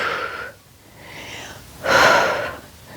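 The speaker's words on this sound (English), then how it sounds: "Nice big inhale and exhale" Deep breaths during a Pilates workout, a slow inhale followed by a longer, stronger exhale through the nose and mouth, close and alone with no talking.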